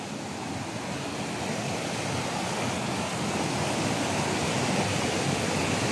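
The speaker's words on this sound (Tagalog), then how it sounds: "Lakas ng agos oh." A strong forest river current rushes in a loud, unbroken broadband roar, steady and close with no voices over it.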